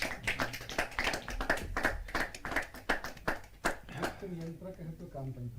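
At a Hindi poetry open-mic gathering, the audience claps in a strong, fairly regular rhythm for several seconds. The clapping then gives way to a voice speaking near the end.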